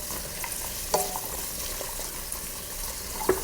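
Cashews and raisins frying in ghee for pumpkin halwa, a faint steady sizzle broken by a couple of brief stirring clinks near the pan.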